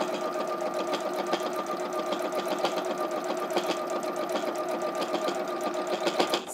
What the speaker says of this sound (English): So we're just top stitching that.